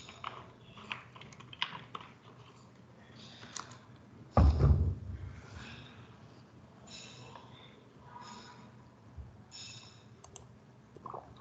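Computer keyboard typing comes as light, irregular clicks and taps through the clip, with one louder thump in the middle, fairly faint and close, with no talking.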